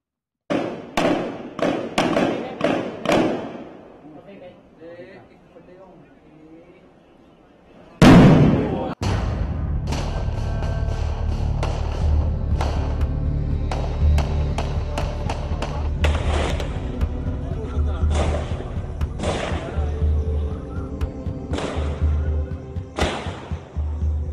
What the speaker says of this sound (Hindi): दीनानगर पुलिस स्टेशन में से फायरिंग की लगातार जो आवाज़ आ रही है